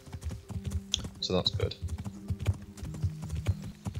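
In the Kingdom Come: Deliverance game, a horse's hooves beat a rapid, rhythmic clip-clop while galloping through woods, close and steady, as someone talks briefly over it.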